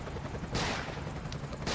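Dense gunfire in the video game Emergency 5: rapid, overlapping crackling shots forming a steady barrage with brief louder bursts, with no talk.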